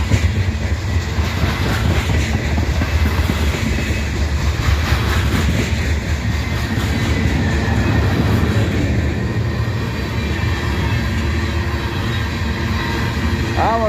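A freight train rolls through Abbeville, a steady, loud rumble of rail cars with continuous clickety-clack and grinding wheels that fills the whole stretch without a break.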